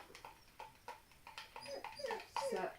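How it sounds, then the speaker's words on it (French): A dog whimpering indoors, a series of short, quiet whines and yips repeating every fraction of a second and rising in pitch toward the end. "Je vais sortir le chien parce qu'elle ne va pas me lâcher."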